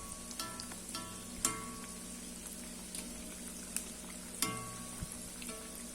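Crispy onion bonda deep-fry in hot oil over a medium flame, a continuous close bubbling sizzle broken by a few sharp metallic clinks as the fritters are turned.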